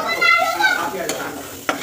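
Bitter gourd frying in a home kitchen, with steady sizzling and scraping stirs throughout and a couple of sharper clinks from the utensil.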